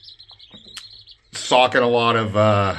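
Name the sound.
American Bresse chicks chirping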